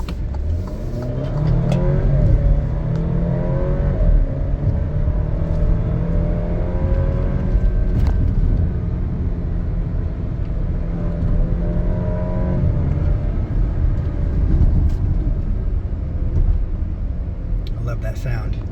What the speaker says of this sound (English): Sounds decent for you know, a 4-cylinder engine.